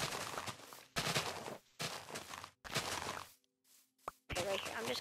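Repeated bursts of block breaking in Minecraft, several separate crunchy hits in quick succession with short pauses between them, fairly close and moderately loud.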